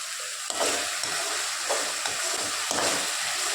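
Coconut oil sizzles and hisses steadily in a pan while onion thokku fries, with a few louder bursts of crackling and stirring over a constant bright frying hiss, no voices.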